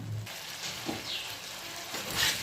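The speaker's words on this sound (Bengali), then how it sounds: "এবার আঁচটা কমিয়ে দিয়ে ভালো করে মশলাটাকে কষিয়ে নিতে হবে।" Spice paste (masala) for a rohu fish dish frying gently in a pan over low heat, giving a soft, steady sizzle with faint stirring scrapes and no talking.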